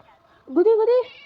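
A single short, close cat meow from the Scary Teacher video game, clear and rising then falling, standing out against a quiet background.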